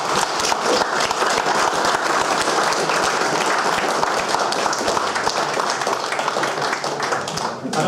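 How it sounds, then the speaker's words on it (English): A crowd at a Wimborne Town supporters meeting claps loudly and steadily for several seconds, dense applause that tapers slightly toward the end. "we ought to give a big round of applause to the Ability Counts team who won the league"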